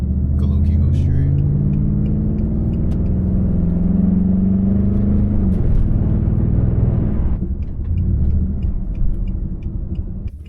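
A Pontiac G8 GT's engine revving: a loud, deep rumbling rev that rises and holds, then drops off sharply into a lower idle, with a voice speaking over it.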